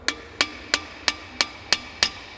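Seven sharp, evenly spaced hammer taps ring out close and alone, seating a bearing in a JBS E-Series beater gearbox being torn down.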